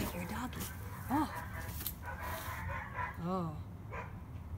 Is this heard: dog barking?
yes